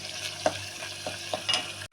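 A pot of palak buttermilk sambar thickened with gram flour bubbles on the stove, giving close, scattered soft pops and bursts over a faint steady simmering hiss.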